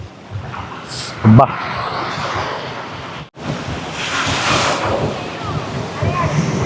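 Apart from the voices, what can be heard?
waves at Pantai Cenang beach, Langkawi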